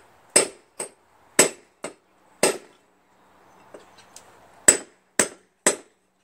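Hammer blows on a chisel against a rear wheel seized on the transaxle of an MTD Cub Cadet lawn tractor: eight sharp, close metallic strikes in uneven rhythm, with a brief quieter pause midway.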